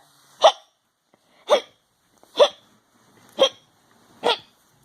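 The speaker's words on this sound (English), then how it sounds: "I think he has the hiccups." Five evenly spaced hiccups from a cartoon plush character, each a short sharp vocal hic about a second apart, loud and close with quiet gaps between.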